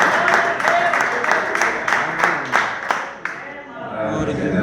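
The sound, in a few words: church congregation applauding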